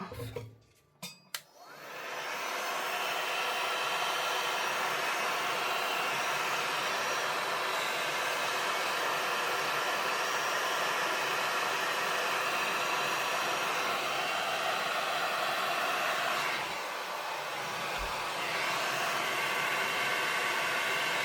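Heat tool or hair dryer drying a wet stamped card for faux pyrography cardmaking: a click and short bumps, then a loud, steady close blowing roar lasting the whole stretch with a slight dip near the end.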